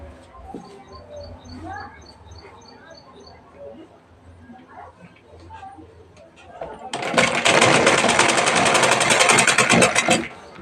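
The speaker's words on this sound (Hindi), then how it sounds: "फिर यहाँ से सीधी सिलाई लगाते जाना" A sewing machine runs a steady, loud straight stitch along blouse piping for a few seconds, coming in after a quieter stretch of faint clicks and room noise.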